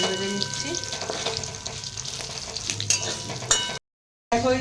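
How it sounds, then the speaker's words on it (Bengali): Whole spices frying in oil in a pan for khichdi, a close steady sizzle with stirring scrapes and a few clinks, cutting briefly to silence near the end before the sizzle returns. "দেখো এই যে ফোড়নগুলোকে প্রথমে ভেজে ভেজে নিচ্ছি।"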